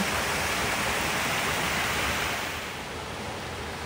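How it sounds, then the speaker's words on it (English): Rushing river water at a crossing in a wooded ravine of old-growth hemlock, a steady broad roar that stays close and loud throughout, easing slightly toward the end, with no voices. "A little typical river crossing."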